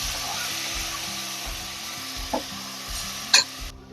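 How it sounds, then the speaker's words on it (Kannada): Soaked rice and lentils being stirred into fried spices in a pot, a steady scraping churn under a soft sizzle, with a couple of brief sharp clinks of the spoon against the vessel. "ಇವಾಗ ನೆನೆಸಿರೋ ಅಕ್ಕಿನೂ ಬೇಳೆ ಹಾಕೊಳ್ಳೋಣ. ಬೇಳೆ ಹಾಕೊಂಡು ಮಿಕ್ಸ್ ಮಾಡ್ಕೊಳ್ಳೋಣ."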